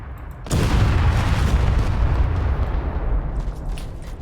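A single heavy mortar explosion in the Call to Arms war game bursts suddenly after a quiet moment, then rumbles loud and deep as debris and echoes slowly fade.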